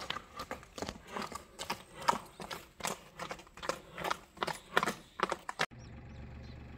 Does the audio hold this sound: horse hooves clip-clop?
yes